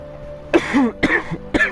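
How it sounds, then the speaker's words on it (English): A man coughs three times in quick, separate bursts, close to the microphone and rough-throated, with quiet gaps between each cough. "Got this cough for some reason."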